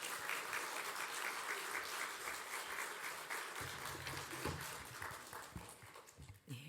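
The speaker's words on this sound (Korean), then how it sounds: "우리 따뜻한 격려의 박수로 환영하시겠습니다" Sustained applause from a church congregation welcoming a pastor, filling the room, dense and even, with a few louder claps and faint voices near the end.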